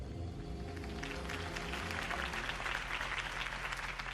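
Crowd applause in the Batman Telltale Series game, following a Harvey Dent campaign speech: a dense, steady roar of many hands clapping, loud and sustained throughout, with a low hum running underneath.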